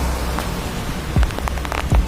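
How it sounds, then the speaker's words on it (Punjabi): Steady broadband hiss of heavy monsoon rain pouring down in Bathinda, Punjab, with a couple of brief low thumps breaking through the constant wash. "ਬਹੁਤ ਤੇਜ਼ ਬਾਰਿਸ਼ ਜੀ ਬਠਿੰਡਾ ਦੇ ਵਿੱਚ"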